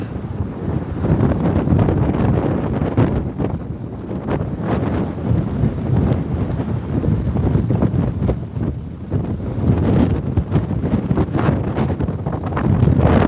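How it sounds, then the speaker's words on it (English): Strong wind buffets the microphone outdoors beside a fire on the 14 South freeway, a loud, continuous roaring rumble with gusty surges and no pauses. "the wind out here is horrible"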